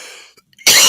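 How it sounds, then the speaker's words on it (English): A single sharp, loud cough bursts out close by after a brief throat noise and a moment of quiet. "I have to have a coughing fit."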